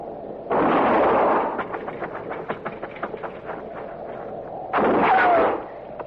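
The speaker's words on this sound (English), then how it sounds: "I'm going to fire and roll away, maybe draw a shot." Two loud, close gunshot blasts in a Western radio drama, one at the start and another near the end, with the first trailing into a rattling, clattering tail.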